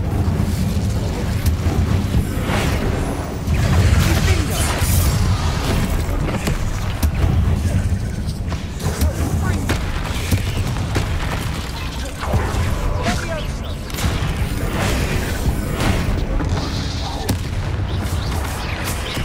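Spell combat in Hogwarts Legacy on PC, with the Incendio fire spell cast again and again amid dense booming, crackling blasts that run steady and loud across the whole stretch, while voice sounds surface now and then in the game mix.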